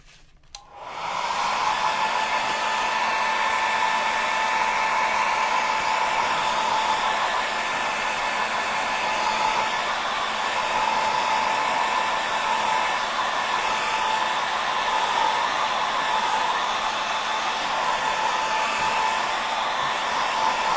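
A heat tool drying a paper junk journal page blows a loud, steady whooshing hum that starts after a brief click and runs unbroken, with no talking.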